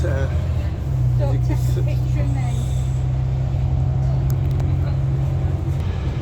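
A bus driving along King Cross Road in Halifax, its engine giving a steady low drone throughout while someone talks over it.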